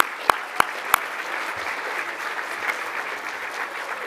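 An audience at a city business awards and expo event gives the commissioners a round of applause, steady crowd clapping throughout, opened by three sharp close taps like a microphone being struck.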